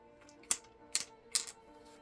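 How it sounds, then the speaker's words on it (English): A four-sided die rolled on a hard surface gives three sharp clattering knocks about half a second apart, fairly close and clear, followed by quiet. "I'll do the 4-sided dice, and then if it lands on a 4, I will just roll again"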